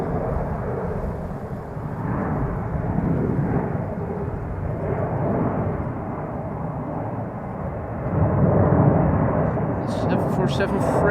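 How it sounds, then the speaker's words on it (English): A Singapore Airlines cargo Boeing 747-400 freighter at Schiphol Airport roars steadily at close range for the whole stretch, a dense rumbling jet noise that swells slightly louder near the end. "Singapore Airlines cargo 747-400 going to Singapore"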